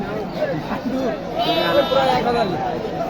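Sheep bleat at a goat market, wavering calls rising over busy talk and crowd chatter close by.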